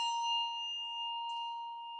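A single handbell struck once, ringing with a clear, sustained metallic tone and bright overtones that slowly decay over two seconds, heard alone and fairly close.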